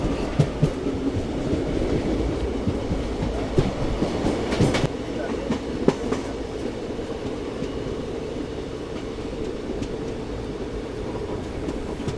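The 12614 Wodeyar Express runs on the Bengaluru to Mysuru line near Mandya, producing a loud, continuous rail rumble with rhythmic wheel clicks and occasional sharp clacks, heard from close by.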